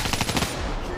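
Rapid automatic gunfire in an online shooter game, a fast burst of loud, close shots in quick succession that stops abruptly partway through.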